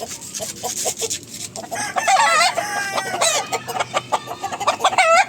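Chickens clucking on a farm while a rooster crows, close and clear with repeated sharp clucks and a drawn-out crow, under faint background rustle.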